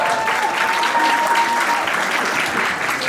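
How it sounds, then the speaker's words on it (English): An audience claps loudly and continuously at a writers' event, dense sustained applause filling the whole stretch. "give him a loud round of applause."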